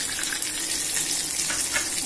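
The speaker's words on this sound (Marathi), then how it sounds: "आता याच्यामध्ये आपण ऍड करणार आहोत 1/2 कप पाणी" Half a cup of water poured into a hot dhokla tempering of curry leaves, green chillies and asafoetida, giving a steady loud hiss and bubbling sizzle throughout, with no talk.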